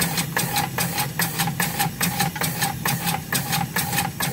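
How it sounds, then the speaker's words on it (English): A homemade compressed air engine chugs in steady, evenly spaced beats up close, its rhythmic knocking and hissing pulses running throughout as it winds down. "Now the engine will start to slow down and stop because our compressor has ran out of air pressure."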